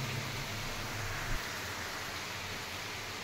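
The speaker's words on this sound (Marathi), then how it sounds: "पाऊस किती येतोय बघा." Steady rain pours down around a village temple shrine to Mhasoba, a dense even hiss that stays constant throughout, with a low rumble fading out early on.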